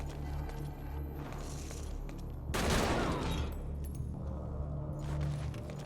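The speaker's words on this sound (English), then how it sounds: "That was a really loud gunshot for a suppressed weapon." A single suppressed weapon fires indoors in a video game, one sharp loud crack with a burst of noise that fades over about a second, set over a steady low hum of background game sound.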